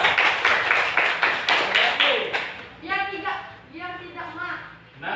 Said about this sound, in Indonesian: Ya, kasih tepuk tangan juga.